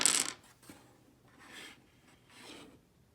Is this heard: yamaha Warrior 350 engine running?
no